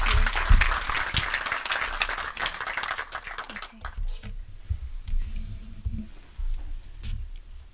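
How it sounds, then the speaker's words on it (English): A seminar audience in a theatre claps warmly for about four seconds before the applause fades into scattered claps, shuffling and quiet room noise. "give her a warm applause"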